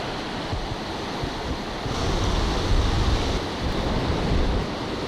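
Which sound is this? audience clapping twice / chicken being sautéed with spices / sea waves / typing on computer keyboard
sea waves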